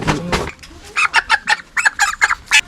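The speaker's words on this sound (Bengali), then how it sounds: "এই জন্য মুরগি নিয়ে আসা হয়েছে" A chicken clucks in a rapid series of short, close calls, loud and clear with no talking, following a brief louder flurry at the start; the bird was bought at a market for cooking.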